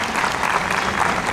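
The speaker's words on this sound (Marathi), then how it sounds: "जोरदार टाळ्या" A school audience at the New English High School annual gathering in Nagpur claps, making a dense, continuous burst of applause that stays loud and steady throughout and is heard close up.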